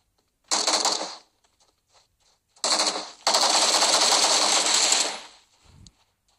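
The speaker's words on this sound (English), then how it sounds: "somebody's actually shooting at us" Bursts of automatic gunfire in the mobile battle royale PUBG Mobile, two short rapid rattling volleys then a longer sustained burst, loud and close, with a faint voice after.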